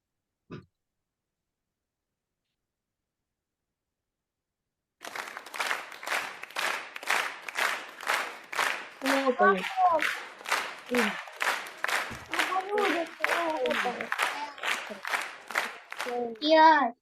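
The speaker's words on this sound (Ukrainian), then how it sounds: "Аплодисменти, так?" Applause from a large audience, a dense burst of clapping that starts suddenly after several seconds of silence and continues steadily, with a few voices calling out under it.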